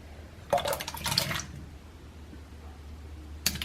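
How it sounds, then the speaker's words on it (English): Potatoes go into a pot of water in a home kitchen with a couple of close splashes and wet plops, followed by a quiet pause and a brief final clatter. "we're gonna put the potatoes into the water and boil them."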